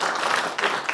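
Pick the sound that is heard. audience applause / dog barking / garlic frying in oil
audience applause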